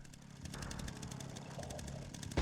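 A chainsaw runs in the horror video game Resident Evil Requiem, a steady buzzing engine drone held for a couple of seconds before a sharp louder burst at the end.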